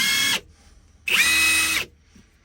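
A Harbor Freight Bauer brushless 1/2 inch impact wrench runs at power level 3 in two short, loud, close bursts of high-pitched whining motor noise separated by a brief pause.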